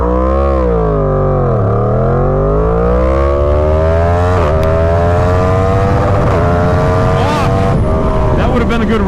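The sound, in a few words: Yamaha FZ10 motorcycle accelerating 0 to 100 mph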